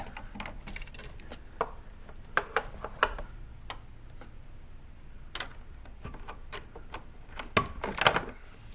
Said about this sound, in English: with an 11mm open-end wrench, you can just get to your battery connections